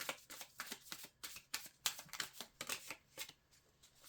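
Mystic Forest Oracle cards being shuffled by hand, a run of soft papery riffles and slaps in an uneven rhythm, close and quiet with no voices.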